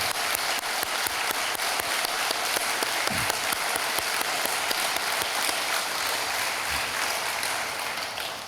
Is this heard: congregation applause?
yes